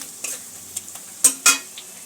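Ground turmeric, coriander and cumin being stirred with a spoon in a hot frying pan for a creamy North Indian paneer dish, giving soft scrapes and light sizzling with a few sharper clinks against the pan.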